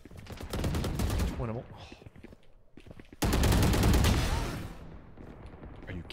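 Rapid bursts of video game gunfire crackle loudly in two stretches, the second a dense sustained volley, with several people talking and reacting over the shots.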